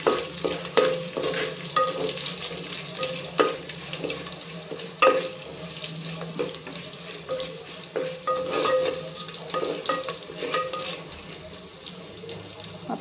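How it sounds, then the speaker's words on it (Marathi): Chopped green chillies and onions sauté in a pan, a continuous low sizzle under repeated scraping and tapping stirring strokes that come at an uneven pace throughout. "आता याच्यामध्ये ऍड करूया कट करून घेतलेली हिरवी मिरची। ती छान 1 मिनिटभर परतून घेऊया कांद्यासोबत"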